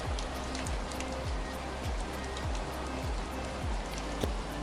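Heavy rain pours steadily in Munnar, Kerala, a dense, continuous hiss with scattered close drips and patters, loud and unbroken throughout with no voices.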